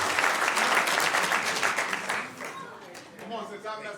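An audience at a city council meeting applauds for Alex, dense clapping that thins out and fades as voices talk over it.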